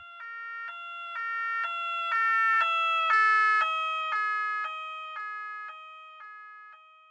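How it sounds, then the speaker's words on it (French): A wailing two-tone ambulance siren alternates in steady steps, rising in loudness as it approaches and fading as it moves away, with the pitch dropping as it passes. "Le véhicule se rapproche de vous, sirène hurlante, avant de s'éloigner."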